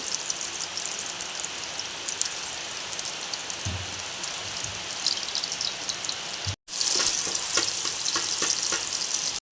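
Finely chopped garlic sizzles in hot coconut oil, a steady, close crackling hiss that runs throughout and surges louder after a brief gap near the end.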